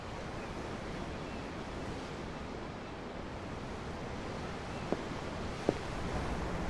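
A steady wash of ocean waves beside an underground dock in Tales of Arise, soft and continuous, with two faint clicks near the end and no speech.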